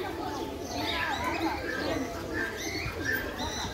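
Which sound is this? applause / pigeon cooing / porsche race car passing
pigeon cooing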